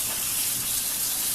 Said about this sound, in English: My tap water gets pretty hot, so that's what I am going to fill these beans up to